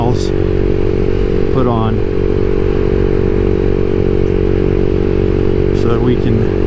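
A CSC SG250 motorcycle fitted with a MotoCult Stage 4 kit rumbles at a steady loud drone while being ridden, with brief clatter and someone speaking over it.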